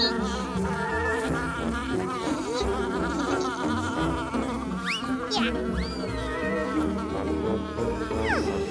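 A swarm of bees from a beehive struck by a slingshot buzzes loudly and steadily throughout, with a few quick rising whistle-like sweeps near the end.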